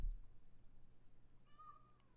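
A pet cat wearing a cone gives a single short meow, close and clear against a quiet room.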